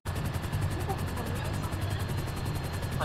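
A helicopter in Grand Theft Auto V, its rotor pulsing in a fast, steady beat under a constant loud engine roar that carries on without a break.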